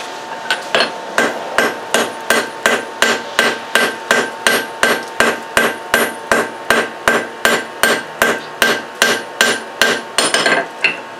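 Steady hammer blows on an anvil forge-welding stacked layers of steel in cold outdoor conditions, about two strikes per second, loud, close and ringing, with no talking over them.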